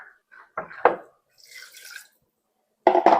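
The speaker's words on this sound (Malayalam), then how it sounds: "ഇനി ഈ കടല വേകാനുള്ള വെള്ളം നമുക്ക് ഒഴിച്ചു കൊടുക്കാം." Water is poured into chickpeas cooked in masala inside a pressure cooker, coming in short splashing bursts separated by quiet pauses.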